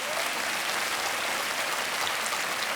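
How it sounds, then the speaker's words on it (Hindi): Studio audience applause on a televised quiz show, a dense, loud, sustained burst of many hands clapping together with no break, filling the short stretch alone. "तालियां बजनी चाहिए इनके लिए।"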